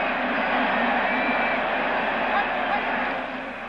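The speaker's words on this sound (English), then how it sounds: "this crowd is going mad" A roaring crowd of about 63,000 fans in a 1970 Dallas versus New York Giants football stadium, a dense sustained cheer that fades slightly at the end.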